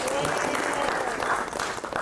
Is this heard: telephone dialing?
no